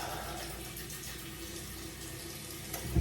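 Tap water runs steadily into a sink during face washing, a close, even rushing that lasts the whole moment, with a brief splash or bump at the very end.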